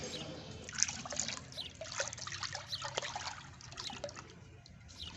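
Four litres of cooking oil poured from a container into a large pot on a village stove for frying boondi, a steady liquid trickle and gurgle close by, continuous for several seconds with faint background noise.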